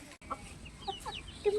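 Farm chickens cluck in short, scattered calls over a quiet, steady background, with a few brief clucks close by and one louder call near the end.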